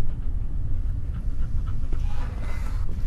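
Dogs in the video game There's Something In The Ice panting and barking, a steady low rumble of breathing with a few faint barks near the end, mixed under an ambient game backdrop.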